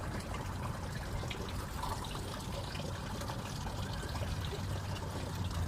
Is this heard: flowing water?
yes